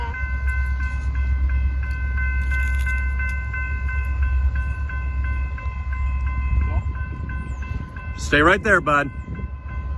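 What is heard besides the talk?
train passing a level crossing in Tulsa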